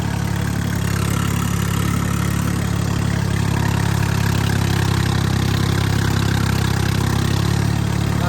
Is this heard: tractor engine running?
yes